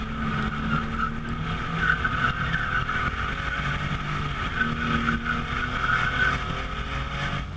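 A 2016 Cadillac ATS-V with a 464 horsepower twin-turbo 3.6-liter V6 on the Circuit of the Americas, heard as a steady loud engine drone from inside the car, holding a constant pitch without pause.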